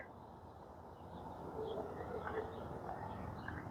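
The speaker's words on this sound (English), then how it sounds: "You can hear birds up in the trees." Faint bird calls and coos drift from trees in a park over a steady outdoor background, with scattered soft chirps throughout.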